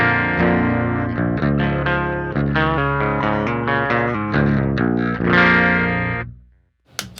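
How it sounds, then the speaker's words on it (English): Lower-tuned electric guitar played clean through a treble-boost and fuzz pedal rig with both effects off: ringing chords and single notes for about six seconds, fading to silence before a brief final knock. "Here's what the guitar sounds like clean."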